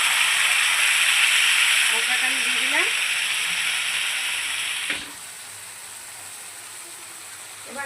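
Loud, close sizzling of spices in hot oil, a steady crackling hiss that drops noticeably after a few seconds, with faint voices underneath.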